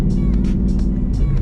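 A Ford Mustang GT with a stock MT82 manual gearbox drives along, its engine a loud, steady low rumble heard from inside the car, with voice-like bursts over it.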